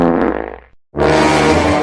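Two loud, close farts from a goat with a gassy stomach ailment: a rasping blast that trails off in sputters, a brief gap of silence, then another strong, sustained burst, with no talking.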